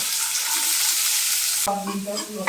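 Garlic, finely chopped green chili and onion fry in hot oil in a home kitchen, a loud steady sizzle that is abruptly disturbed as the pan is stirred, with crackling bursts toward the end.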